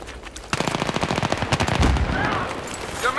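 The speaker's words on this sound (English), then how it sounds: "I'm being shot at from behind now." Rapid automatic gunfire from behind in Battlefield 3 PC multiplayer on the Epicenter map, bursting in after a short quiet start and continuing as a dense, close rattle of shots to the end.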